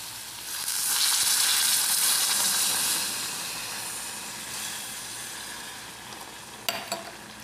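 Water poured into hot caramel with bananas in a pan gives a loud, hissing sizzle that swells quickly, then slowly settles into a steady bubbling fry, with a few small clinks near the end.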